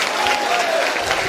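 A church congregation claps in a loud, dense wash of applause that fills the room evenly, with scattered crowd voices mixed in.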